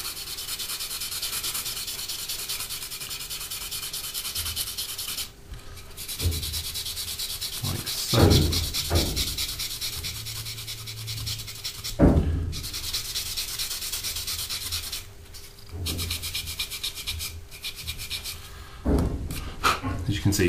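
Sandpaper rubs repeatedly over small plastic parts of an Italeri 1/72 Jaguar T2 model kit, a close, steady scratchy rasp in short back-and-forth strokes broken by brief pauses and knocks.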